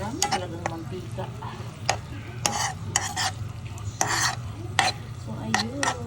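Eggplant fries in plenty of oil, a continuous sizzle broken by sharp scrapes and clinks of a utensil stirring in the pan, close and fairly loud, with faint talk in places.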